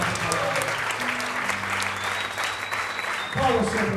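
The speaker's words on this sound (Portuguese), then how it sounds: "Aplauda o Senhor por essa palavra." Applause from a church congregation during a Sunday service, a steady broadband patter of many hands under a preacher's ongoing voice and music.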